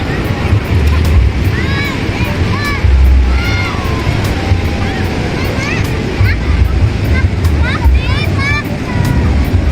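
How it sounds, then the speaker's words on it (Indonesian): Ocean surf at Menganti beach, with blue waves reaching about two meters below tall karst rock hills, rolls in as a steady loud wash with wind buffeting the microphone and faint bird chirps above. "Ombak di depan kita terlihat sangat biru dan ketinggiannya bisa mencapai kurang lebihnya 2 meteran."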